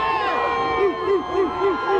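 Crowd noise from thousands of fans lining the street at a college football national championship victory parade in Athens, Georgia, heard as a steady murmur with rhythmic tonal bursts over it and nearby voices talking.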